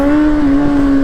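A motorcycle engine holds a loud, steady high rev during a wheelie attempt on a failing bike, with a strong buzzing tone and no talking.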